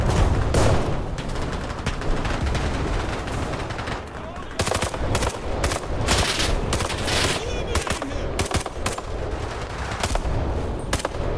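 Loud infantry gunfire from War Thunder's infantry mode rattles in rapid, repeated bursts with sharp cracks, nearly continuous and close, with a short lull partway through.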